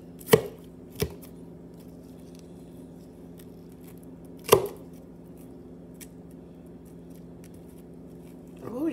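Onions chopped with a knife on a board, a few sharp isolated thunks spaced seconds apart over a low steady hum, close and clear.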